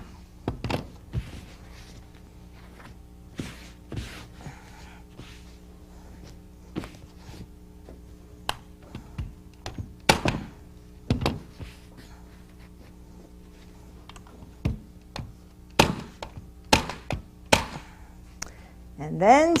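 Staple gun driving staples through drapery fabric as it is pulled taut, giving sharp, close percussive snaps scattered irregularly with handling thumps between them.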